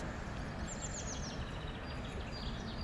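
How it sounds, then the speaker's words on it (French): A faint, high blue tit song with a quick descending trill carries from a distance over steady background noise, with a chaffinch singing behind it. "Ça c'est le chant de la mésange bleue."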